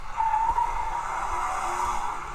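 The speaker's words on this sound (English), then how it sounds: "I can hear a car." A car sound from a children's vehicle-sound listening exercise: a short burst of squealing tires and engine noise, loud and close, with a sustained screech near the start.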